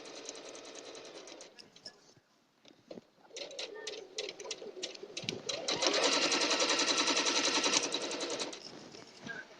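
A sewing machine stitches quilt pieces, running fast in a steady mechanical whir, slowing and easing over pins, then speeding into a loud sustained hum, with a voice talking over parts of it.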